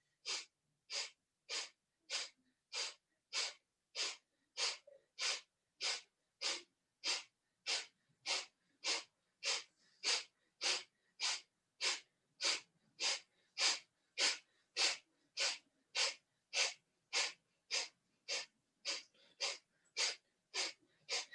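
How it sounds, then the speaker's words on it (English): Rapid yoga breath of fire: about forty sharp, forceful nasal exhales in a steady, even rhythm, close and clear, with no talking. "So we're going to begin breath of fire, or just deep belly breaths"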